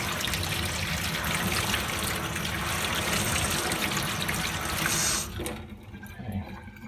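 Newly installed kitchen sink faucet running water to flush the lines, a steady broadband gush close up that stops abruptly near the end, leaving quieter room noise.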